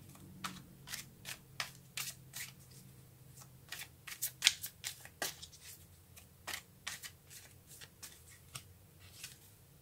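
Tarot cards are shuffled during a Libra reading, with a string of crisp, irregular riffling snaps and flicks spread across the clip. They sound close, moderately loud and stand alone, with no speech.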